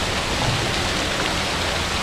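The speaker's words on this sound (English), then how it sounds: "First waterfall." A waterfall on the Berkeley River in the Kimberley, Western Australia, gives a dense, steady roar of rushing water that fills the whole sound evenly without pauses or voices.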